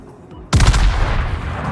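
Ship guns fire in a naval video game: after a brief quiet moment, a sudden loud boom of a heavy salvo erupts with deep rumbling that lingers and rolls on, no voices over it.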